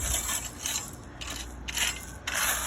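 Gravel is spread over weed fabric for a golf putting green base, raked and scraped across the ground in repeated rough strokes, a harsh crunching rasp pulsing with each pull.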